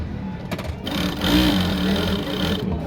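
An automatic oil-type sewing machine runs a line of stitching, a fast continuous mechanical whir that builds and holds steady close up for a couple of seconds.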